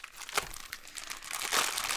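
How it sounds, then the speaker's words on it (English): Plastic bag crinkles and rustles as a SEBO Airbelt K2 Turbo vacuum is unboxed, with a few sharp crackles early on and a denser, louder stretch of crinkling toward the end, close and alone. "it is all put into a plastic bag"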